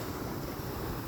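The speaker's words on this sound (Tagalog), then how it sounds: "Hindi laging kalmado ang dagat dito." Sea waves near a beach, with a continuous broadband wash of surf mixed with wind rumble on the microphone, steady and fairly close, with no voices.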